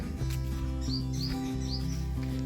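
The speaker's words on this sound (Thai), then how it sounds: "ชมเสียงนกทำเสียงธรรมชาติ" Birds chirp in short high tweets a few times, faint over a constant low engine-like drone, outdoors near a road.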